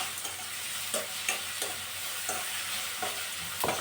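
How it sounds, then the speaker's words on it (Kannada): A tempering with added salt fries in a pan for semolina vermicelli upma while a spoon stirs it, giving a soft steady sizzle broken by regular light scraping knocks, with no voices. "ಉಪ್ಪನ್ನ ಆ್ಯಡ್ ಮಾಡಿ ಸ್ವಲ್ಪ ಈ ರೀತಿಯಾಗಿ ಫ್ರೈ ಮಾಡಿಕೊಡಿ"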